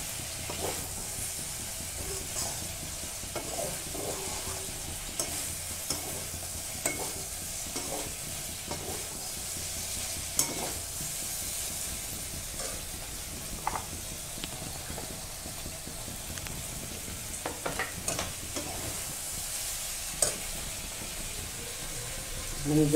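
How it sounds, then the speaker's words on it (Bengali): Soybean chunks stirred and fried in a pan, a steady close sizzle with the irregular scrape and clatter of a utensil against the pan throughout, no speech. "এখন আমি সয়াবিন বড়িগুলো দিয়ে দিলাম। সয়াবিন বড়িগুলো বেশি ভাজা যাবে না, বেশি ভাজলে শক্ত হয়ে যায়।"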